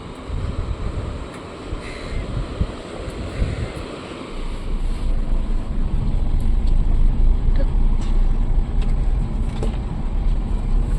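Surf rolls in at Lal Kakra beach in Mandarmani, a broad steady wash of waves with gusting wind buffeting the microphone, swelling louder in the second half.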